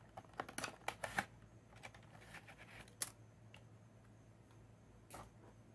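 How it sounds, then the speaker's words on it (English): Packaging being handled while a new IBM ThinkPad T42 laptop box is opened, with scattered soft rustles and crisp clicks and snaps, a few louder bursts early on and again near the end, quiet and close with no talking. "Alright, let's unbox it."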